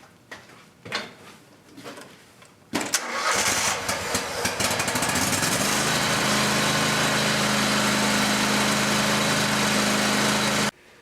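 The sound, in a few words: Scag Tiger Cat zero-turn mower, Kohler Command engine, full throttle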